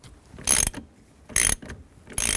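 Three short bursts of ratchet clicking tighten a nut on the steering wheel of a 2003-07 GMC Yukon, each quick run of pawl ticks close and crisp with brief quiet gaps between.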